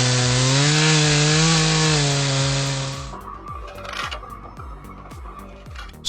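Chainsaw cutting into a wooden tree stump during stump removal: a loud, steady high-revving saw drone for about three seconds, then it drops away into quieter rhythmic chopping and scraping of wood.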